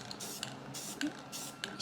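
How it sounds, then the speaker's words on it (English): Aerosol black paint hissing in short bursts onto a greenhouse frame, several separate sprays with brief pauses between them, fairly close and moderately quiet. "spray from a different direction to cover it better"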